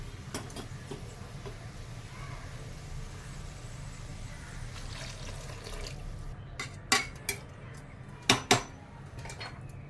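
Hot water is poured into a cooked masoor lentil curry and stirred, giving a low steady watery rush, followed by a few sharp metallic clinks of a spoon against the pot near the end.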